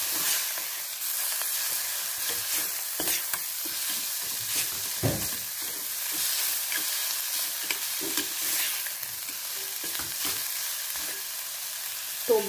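Chopped tomatoes with salt frying in a pan for methi amti, a continuous sizzle broken by frequent spatula scrapes and stirring knocks throughout.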